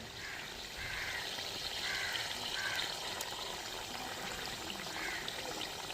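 Water pours into a pot of egg curry with potatoes and ground coconut as a soft, steady trickling stream, fairly faint and continuous for several seconds, with no talking.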